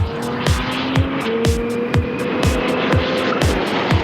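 Race car circling the Le Castellet circuit, a loud, steady engine drone with a regular pattern of bumps and rattles, heard close with no voices.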